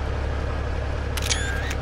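A quick camera shutter click for a screenshot in the American Truck Simulator video game, a brief sharp snap near the end over a steady low engine drone.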